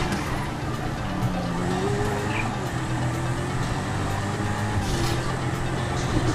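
Steady engine drone of a Jester sports car driving in GTA 5, continuous and fairly loud with some tire noise, a slight rise in pitch near the end, no talking.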